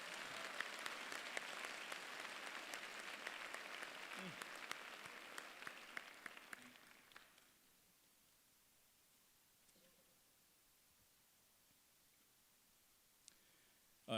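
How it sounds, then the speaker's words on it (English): An audience claps steadily for several seconds for a university choir at an honors convocation, the applause fading out into near quiet, followed by a faint click or two. "Please join me in giving the Morgan State University Choir another round of applause"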